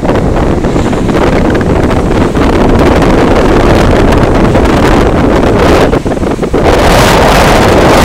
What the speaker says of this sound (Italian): È il vento che è pazzesco.